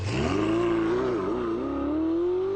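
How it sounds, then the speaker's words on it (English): A Ferrari 488 GTB's twin-turbo V8 roars steadily, its pitch dipping briefly then climbing as it revs up, loud and continuous with no one talking. "I love the sound of a twin-turbo V8 roaring from behind me"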